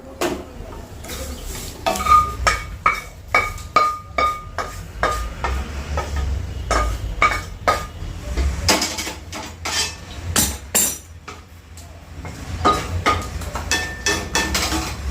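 Garlic chutney is stir-roasted in a pan, with sharp, irregular metal clinks and scrapes from a utensil hitting the pan over a low background. The sound is loud and close.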